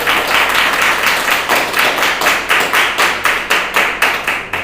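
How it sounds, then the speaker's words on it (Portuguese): A church congregation claps in a fast, even rhythm, each clap distinct and loud, with the beat holding steady and close from start to finish and almost no talking. "Aplauda o nome do Senhor Jesus"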